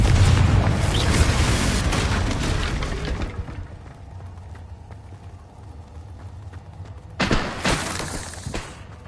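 Confringo blasting spells from Hogwarts Legacy burst loudly with a long, crackling explosive rush that fades, followed after a lull by a second sharp shattering blast near the end.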